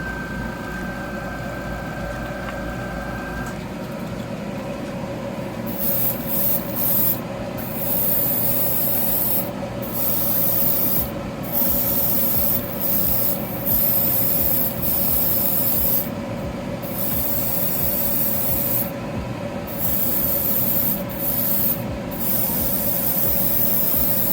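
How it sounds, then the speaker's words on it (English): Airbrush spraying paint onto a model car's ball joint and inside its poly cap, a steady hiss broken by repeated short pauses, close and continuous over a faint background hum. "I'm spraying the ball a little bit on here and inside the poly cap"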